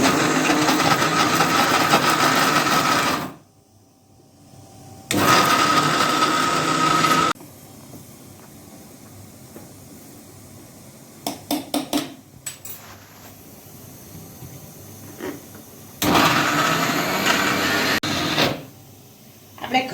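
A kitchen grinder churns black sesame seeds with dates for kachariyu in short bursts, a loud whirring roar that stops and restarts. Between runs come quiet pauses with a few clinks and small handling sounds.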